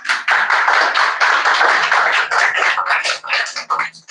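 Audience applause, a dense burst of many hands clapping steadily before thinning out into scattered claps near the end.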